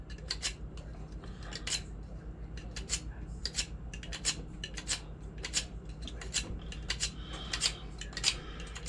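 A knife is sharpened while a hind quarter is being cleaned: repeated quick scraping strokes in an irregular rhythm, faint and close, with no one speaking.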